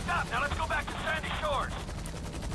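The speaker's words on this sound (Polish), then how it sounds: "Nie chcę zanurzyć tego śmigłowca." A helicopter in Grand Theft Auto V on PS4 gives a steady, dense rotor and engine drone, with someone talking over it throughout.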